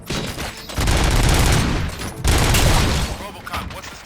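Gunfire in the video game Robocop: Rogue City comes as two dense bursts of rapid, loud shots with booming impacts, separated by a short lull, while a voice speaks over part of the barrage.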